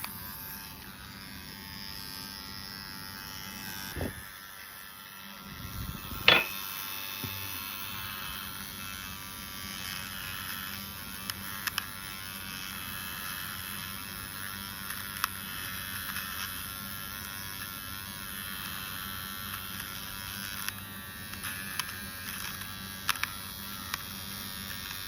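An electric nose hair trimmer runs continuously with a steady high-pitched buzz for about twenty-five seconds, close and alone, with a few small clicks and bumps as it is handled.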